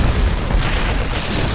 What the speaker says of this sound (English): Oh no, they destroyed the bunker.